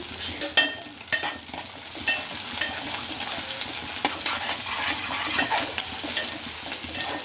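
Pepper chicken fries in a pan, bachelor style at home, with curry leaves. A continuous sizzle sits under frequent stirring scrapes and light clinks of utensil on metal.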